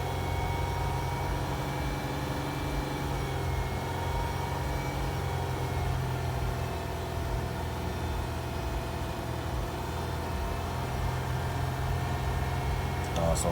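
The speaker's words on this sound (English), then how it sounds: "So finish revving that baby up" Following a fuel injector cleaning, a 2012 Chrysler Town & Country engine runs at raised revs with a steady, moderately loud droning hum and a whining tone. No clear rises or falls break the sound.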